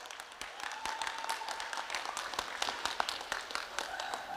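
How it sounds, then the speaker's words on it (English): Audience at a youth economic development conference gives a round of applause, a fairly distant, sustained patter of many clapping hands throughout. "Give her a round of applause."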